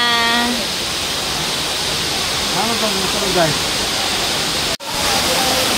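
Steady broadband rush of Tinago Falls, a waterfall, fills the whole scene with a constant close roar, while faint voices talk beneath it and one brief dropout interrupts near the end.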